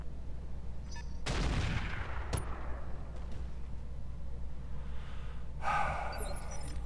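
Heavy weapons fire in the RogueTech mod for BattleTech comes as a few loud booming impacts with noisy bursts, a big hit around the second second and another near the end, over a low engine hum, with no talk.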